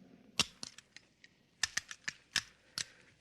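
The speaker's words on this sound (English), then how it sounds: "let's see you put back the firing pin" Small metallic clicks and snaps come from a pistol's firing pin being fitted back into place, a sparse series of sharp, close taps with short pauses between them and no talking.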